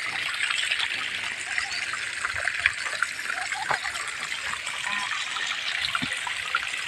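Water rushes under pressure into a storage tank, a steady broadband wash that runs continuously for the whole stretch with no voices over it.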